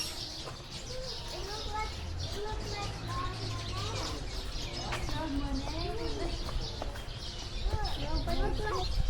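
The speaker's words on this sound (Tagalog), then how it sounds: "There are birds." Birds chirp and coo steadily through a pottery garden, with many overlapping calls at moderate distance while people talk nearby.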